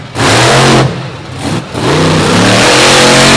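A modified pickup truck of around 2003 vintage, built for truck pulling, roars at full throttle during a slap wheelie, loud and close with two brief dips in revs before surging again.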